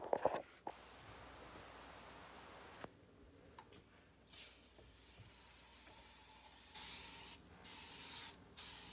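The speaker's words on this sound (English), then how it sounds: "So we're going to respray that one more time." Scrubbing Bubbles cleaner is sprayed onto a kitchen stove in several separate hissing bursts, faint at first and longer and stronger toward the end, with a quiet room between them.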